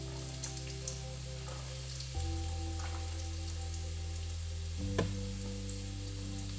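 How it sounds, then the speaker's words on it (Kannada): Red onions fry in hot oil with a continuous close crackling sizzle and a few scattered pops, heard over a low steady hum that shifts pitch twice. "ಒಂಚೂರು ಕಲರ್ ಚೇಂಜ್ ಆಗೋಡು ಈರುಳ್ಳಿದ ಫ್ರೈ ಮನ್ಪುಗ"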